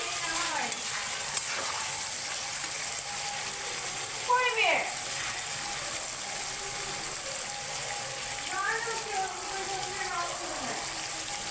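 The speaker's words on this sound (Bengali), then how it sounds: "এই যে আমার মাংস থেকে তেল ছেড়ে দিয়েছে। আমি এখানে 2 মিনিট পর পরই নাড়ছি।" Chicken cooked with ginger, onion, garlic and chili paste frying in its own released oil, with a steady sizzle throughout and a few scraping stirs of the spoon.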